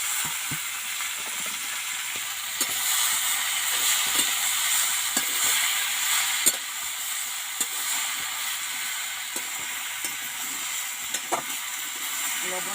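Boiled kalmi greens with crushed garlic fry in a pan, a constant hissing sizzle with scattered scrapes and taps from stirring, close and steady throughout, no talking.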